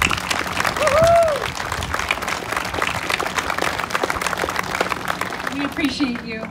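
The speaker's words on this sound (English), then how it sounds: "please join me in giving them a round of applause" Audience applause for honorary guests seated in the east section at a high school graduation ceremony in Gimli, a moderate spread of clapping with a brief cheer-like tone early on, fading under background crowd noise.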